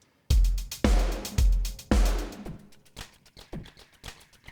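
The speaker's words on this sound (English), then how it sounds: "you'll hear how the Superior drums roll into that." A drum fill of heavy, booming hits rolls into a beat in a music production session: four big accented strikes about half a second apart, then lighter, quicker hits trailing off, with no talking.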